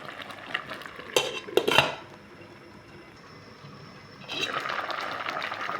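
A metal lid is set onto a cooking pot of shrimp sinigang with sweet potato tops, giving a few sharp clanks and clinks over a low simmer, followed by a steady hiss.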